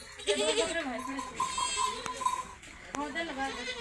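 Goats bleating inside a goat shed, several wavering calls in quick succession, close and fairly loud, with people talking and shouting over and between them.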